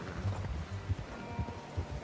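Horse hooves clip-clopping in Red Dead Redemption 2, a quiet, steady rhythm of soft thuds at an easy walking pace.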